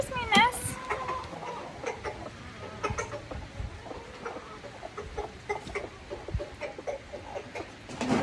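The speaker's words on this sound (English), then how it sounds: "We got a hen that wanted to go broody here." A broody hen clucks in a backyard coop, short scattered calls and a sharper squawk near the start over rustling and background chatter, with a voice talking at times.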